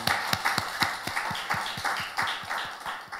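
Church congregation clapping in praise during a worship service, a fairly sparse scattering of hand claps in a loose, rhythmic pattern, moderately close and continuing steadily throughout.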